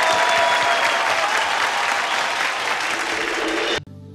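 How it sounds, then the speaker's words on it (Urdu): Audience applause greeting a guest onstage at a talk show, a dense, loud burst of clapping from a crowd that holds steady for several seconds and then cuts off abruptly. "تالیوں کے ساتھ سواگت کیا جائے"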